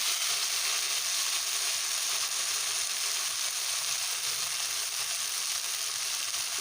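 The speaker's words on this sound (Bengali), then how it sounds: "যতক্ষণ আমি মশলাটা কষছি" Steady, dense sizzling of masala and potatoes frying in hot oil, constant and close throughout with no pauses or voices.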